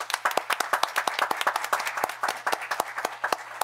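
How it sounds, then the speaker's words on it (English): Sparse applause from a small group at a town board meeting, individual claps distinct and close, steady for a few seconds with a low hum underneath. "How about a round of applause?"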